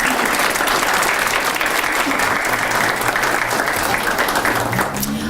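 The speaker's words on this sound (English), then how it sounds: "And now you can applaud." Dense, steady applause from a crowd at a student-of-the-month awards breakfast, loud and continuous for several seconds with no pause.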